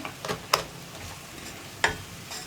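Garam masala fries and gets stirred in a pressure cooker for egg biryani, giving a soft steady sizzle broken by a couple of sharp spoon scrapes and taps against the pot.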